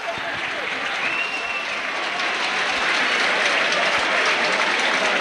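A stadium crowd at a 1991–92 rugby league home match against Warrington claps and cheers a try, producing steady, loud applause with a commentator talking over it.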